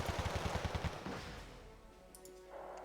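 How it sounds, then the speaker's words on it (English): A rapid burst of automatic gunfire suppresses infantry in the strategy game Wargame: Red Dragon, a fast rattling string of shots for about a second that fades into a low rumble and faint distant battlefield noise. "Fallschirmjägers are now being sniped, they're being suppressed by my transport."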